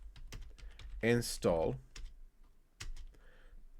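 Keys clatter on a computer keyboard as a terminal install command is entered on a Debian system, quick irregular clicks running under and between a man's speech.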